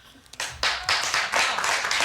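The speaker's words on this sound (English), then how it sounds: "People are clapping for that?" A few people clapping in a short, sparse burst of applause, close and moderately loud, starting after a brief pause and continuing unevenly to the end.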